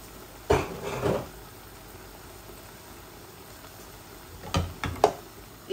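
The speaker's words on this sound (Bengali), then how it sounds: "এখন আমি মাছগুলা ঢেলে দিব।" Koi fish tipped into a pan already holding a handful of pui greens, giving a few sharp clatters and splashes near the start and again toward the end, with quiet stretches between.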